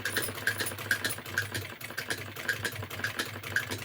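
A sewing machine stitches a folded button strip on a lined blouse, its rapid even clatter running steadily throughout with faint regular ticks, close and without talk.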